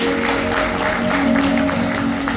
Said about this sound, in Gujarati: થોડી તાળીનો અવાજ તો આવવો જોઈએ.